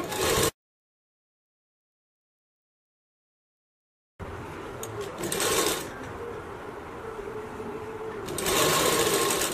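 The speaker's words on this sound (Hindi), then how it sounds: "इसी प्रकार से चारों तरफ को हम इसको सिलते जाएंगे।" Sewing machine stitching elastic along the hem of a circle blouse, with two short bursts of whirring separated by a long silent gap, then a steady run of stitching that builds to a louder burst near the end.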